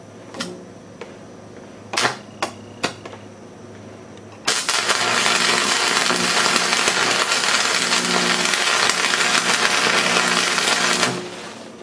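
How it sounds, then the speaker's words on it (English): Arc welding on a Briggs & Stratton engine part: a few sharp clicks and taps from striking the arc, then a loud, continuous crackling buzz for about seven seconds before it cuts off abruptly. "So I'm gonna try arcing this and welding and see what we can do."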